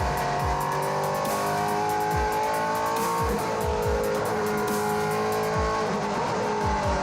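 V8 race cars powering through turns at Teretonga Park, engines roaring loud and steady with repeated downshift blips and throttle pickups, tyres squealing as cars pass in close succession.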